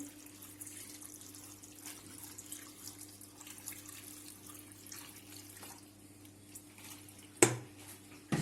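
Tap water runs into a pot for broccoli soup, a faint, steady stream under a low hum. A sharp clink of metal comes near the end.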